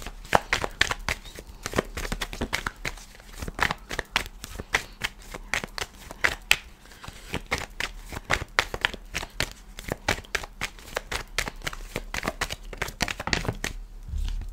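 Tarot cards are shuffled by hand in a rapid, continuous riffle of crisp flicking snaps, close and clear, with no talking over them.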